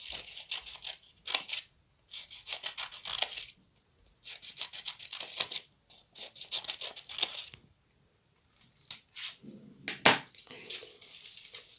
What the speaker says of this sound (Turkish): Sonra makasımızla e, katlı olan yerden kesmeye başlıyoruz.